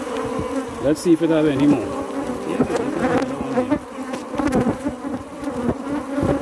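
Many honey bees buzz continuously in a thick, droning swarm close by at an open hive, while a person speaks briefly over the hum.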